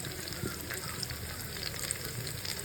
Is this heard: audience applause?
no